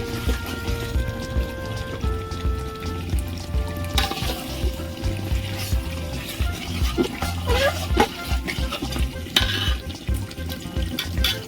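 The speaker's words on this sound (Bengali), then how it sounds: "এবার আমি জল দেবো" Water poured into a pot of browned mutton curry, a close gurgling splash under steady sizzling that carries on for several seconds alongside scattered clinks from the pot.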